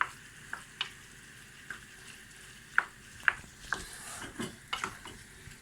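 Peppered tomatoes frying in a pan for felfel, a quiet steady sizzle under scattered clinks and scrapes of a utensil stirring against the pan.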